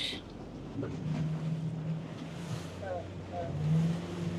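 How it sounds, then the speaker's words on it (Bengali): A speed boat carries riders out for parasailing in Malaysia, its engine a steady low drone under wind buffeting the microphone and water rushing past, with people chatting over the noise throughout. "এটা কি স্পিড বোট? কাইন্ডা না, স্পিড বোটই।"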